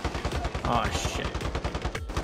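Rapid automatic gunfire in the Warzone battle royale game, a steady fast stream of loud shots filling the whole moment, with a voice talking faintly underneath.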